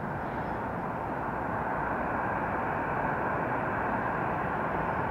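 Spirit Airlines jet, painted bright yellow, lifting off at Hartsfield-Jackson Atlanta International Airport, a steady, loud, broadband engine roar that holds evenly throughout with no other sounds.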